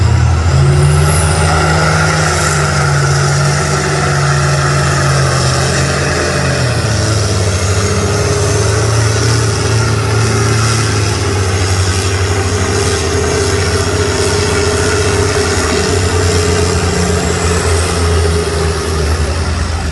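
A Farmall tractor roars under heavy load during a tractor pull at a county fair, with a loud, steady engine drone and deep rumble that holds for the full stretch and carries no speech.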